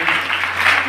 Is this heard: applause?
yes